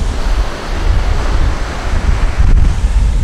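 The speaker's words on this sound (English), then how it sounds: "These waves are strong." Strong ocean surf breaks on the beach at Canggu, Bali, a loud, continuous rumbling wash with heavy wind buffeting the microphone.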